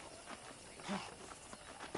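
Horse hooves clip-clop on a ranch in the video game Red Dead Redemption, a steady, fairly close walking rhythm of soft thuds over a faint ambient background with no talking.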